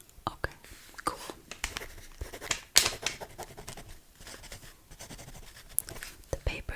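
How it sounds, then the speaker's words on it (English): Sheets of paper rustle and crinkle in close, soft bursts during a whispered ASMR interview, with a sharp crackle near the middle and scattered scratchy handling sounds around quiet whispering. "The paper is making very annoying noises."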